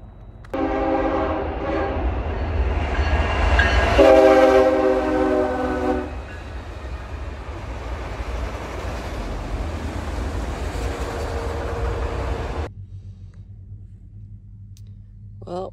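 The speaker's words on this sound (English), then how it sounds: "Hear the train coming." A train rumbles past nearby in Chester, Montana while its horn blares in long, loud blasts, then the rolling clatter fades to a low hum.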